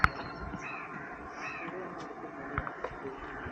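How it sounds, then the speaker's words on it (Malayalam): Small sparrow-like birds call around the Pazhoor Perumthrikkovil temple in Piravom. Scattered short chirps and calls sound at a moderate distance over a steady outdoor background hiss. "ഈ അടക്കാക്കുരുവി പോലെ എന്തോ കിളികളാ."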